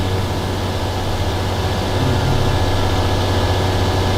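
A steady, loud low drone of a video-game farm tractor engine hums continuously without pause, a heavy rumble with no voices.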